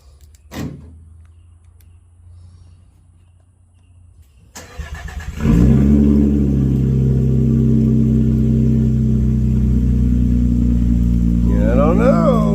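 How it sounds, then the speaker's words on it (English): A 2024 Nissan Frontier with a straight-pipe exhaust cold-starts after a quiet stretch and a faint thump: a brief crank, then a loud, steady, deep idle that holds close by through the end. "So this will be the first cold start. See what this sounds like."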